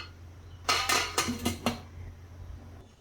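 A burst of metallic clatter: several quick clanks of a steamer pot lid being set down and closed, fairly close, then quiet.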